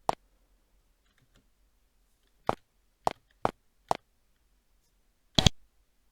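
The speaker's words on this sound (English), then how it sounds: "After a moment you hear a clicking noise from the gate" Sharp, isolated clicks from a gate mechanism opening in the game Avernum, a handful of dry taps spaced irregularly over silence, ending with a slightly heavier double click.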